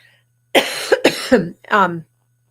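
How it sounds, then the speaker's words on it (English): A person coughs several times in quick succession, loud and close, with harsh raspy bursts and brief pauses between them. "I'm going to cough."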